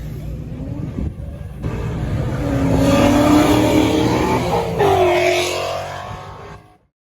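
A Ford Mustang engine revs and accelerates nearby, rising in pitch through the gears, then fades out abruptly at the end.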